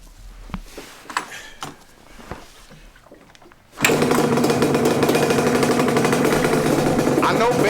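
A Yamaha Banshee two-stroke ATV engine, started cold without choke, catches after some faint knocks and rustling, then roars into a loud, continuous rev close by.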